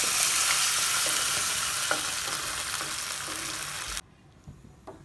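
Mustard seeds crackle in a hot oil tempering for temple-style sambar, a bright close sizzle with small pops that cuts off abruptly as cooked lentils go in, leaving quieter bubbling and a few soft knocks.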